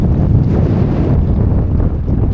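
Strong wind buffets the microphone in a steady, loud roar with no other sounds standing out.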